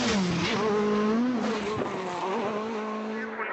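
Escort rally car at speed on the Kilbeg stage of the Galway International Rally, engine screaming loudly up close with a wavering pitch as it shifts and brakes, then fading away.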